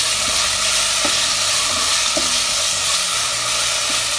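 Tomatoes with salt, garam masala and coriander powder sizzle loudly and continuously in a pan, with a few soft stirring knocks beneath the dense frying noise.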